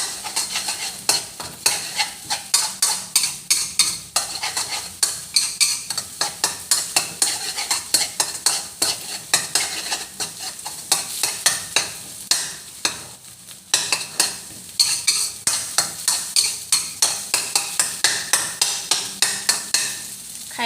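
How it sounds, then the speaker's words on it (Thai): Eggs stir-fried in a pan, with a continuous sizzle under quick, rhythmic scraping and clinking of a spatula against the metal pan, close and loud throughout. "นี่ผัดไข่ให้สุกค่ะ"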